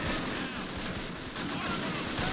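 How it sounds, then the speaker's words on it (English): Sustained gunfire and battle noise from the World War II strategy game Close Combat, a dense continuous wash of shots and blasts that sits loud throughout, with occasional voice-like sounds mixed in. "General Colt is drawing a lot of fire"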